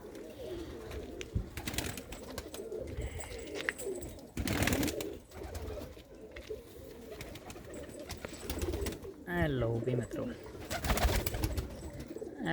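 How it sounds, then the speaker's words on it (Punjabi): Pigeons, including Teddy breed birds, coo softly and repeatedly amid a busy rooftop coop, with wing flutters and someone talking over them nearby. "ਇਹਨਾਂ ਕਬੂਤਰਾਂ ਦਾ ਤੁਹਾਨੂੰ ਆਪਾਂ ਸ਼ੌਂਕ ਕਰਾ ਦਿੰਨੇ ਆ ਜੀ"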